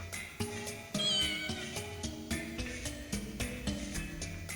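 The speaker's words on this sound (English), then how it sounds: "I like how there's the cats meowing inside of him." Cats meowing from inside a suit of armor in a Fullmetal Alchemist PS2 game, repeated layered meows over steady game music, fairly quiet, with no talk.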